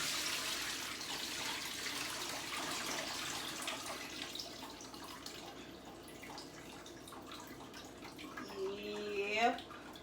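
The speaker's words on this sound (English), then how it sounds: "I'm running water again to rinse my chicken." Kitchen tap running to rinse raw chicken, a steady rushing hiss of water that gradually tapers off, with a short tonal clink near the end.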